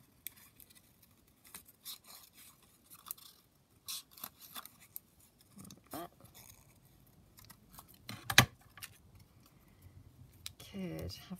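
Scissors cut out a small paper rosebud piece during card crafting, with a few quiet snips scattered among soft handling noises and occasional paper rustles at close range.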